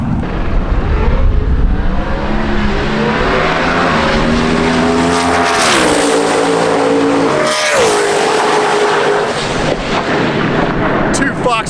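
Two Fox body Mustangs drag racing at a TX2K event, one running a 6.61 pass at 212 mph: loud, sustained engine roar with rising harmonic pitch that shifts and drops mid-run, then a sharp passing whoosh near the end, with crowd noise underneath.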